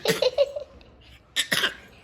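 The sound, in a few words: child coughing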